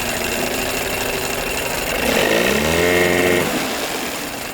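A 1982 Evinrude 9.9hp long-shaft outboard motor idles steadily, then its note sags and drops lower as the idle is turned down, a close, continuous sputtering hum.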